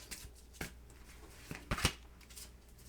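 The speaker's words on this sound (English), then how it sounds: "I'm going to shuffle and deal you an angel oracle card" Angel oracle cards being shuffled, a few soft riffling bursts and flicks close by in a quiet room, with the loudest double snap of cards near the end.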